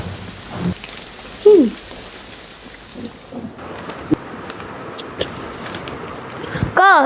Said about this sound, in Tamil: ஐயோ இந்த வெளியே வர மழை வர பெய்யுது.